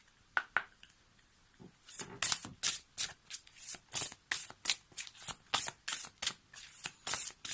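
Oracle cards shuffled by hand, a couple of soft riffles and then a fast, evenly spaced run of crisp card slaps that grows louder, close up with no voice.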